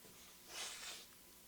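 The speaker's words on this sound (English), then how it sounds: "Just sniffle away from the microphone." A single short, soft nasal sniffle, breathy and quiet, heard close up against faint room noise.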